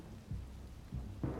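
Rain and rolling thunder in the video game Detroit, a quiet steady rain wash with low rumbles swelling a few times, the last one slightly louder, with no voices.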